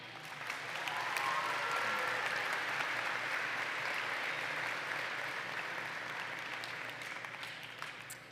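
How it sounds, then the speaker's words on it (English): A high school graduation audience applauds in a full, steady burst that swells in the first second, holds, then slowly thins toward the end. "A big round of applause, please,"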